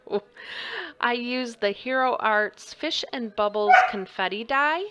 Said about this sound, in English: I apologize for my dog in the background.